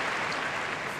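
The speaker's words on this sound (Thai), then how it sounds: "แม้กระทั่งนายโจโควิดยังต้องปรบมือกับนายอุดมโชคในคะแนน" A tennis crowd at the Australian Open applauds after a point, a brief steady wash of clapping lasting about a second.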